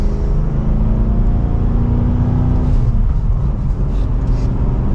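A 2024 Cadillac CT5-V Blackwing accelerates in second gear under mild throttle, its engine a loud, steady low rumble heard from inside the cabin, with the note settling lower midway through.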